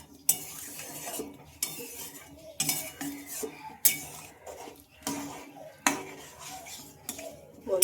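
A potato and pea mixture for ghugni stirred in a pan, repeated rhythmic scrapes and clanks of a spoon against metal with brief pauses between strokes, a faint sizzle beneath, no talking.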